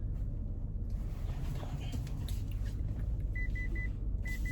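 Car parking sensor beeping at grass beside the vehicle, short evenly spaced high beeps in two brief bursts over a steady low engine and road rumble inside the car.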